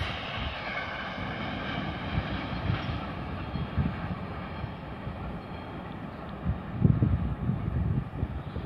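Green Bobina electric locomotive hauling a freight train through Krupka Bohosudov station in northwest Bohemia, a low steady rumble of rolling wagons with faint rail rattle, moderately distant and without speech.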